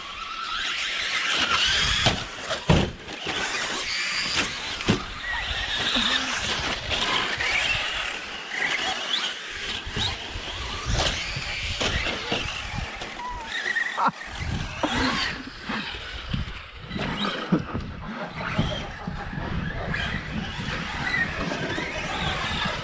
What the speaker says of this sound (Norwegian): Jeg synes bilen din hyler som en gris når du gir gass i luften, Torsten.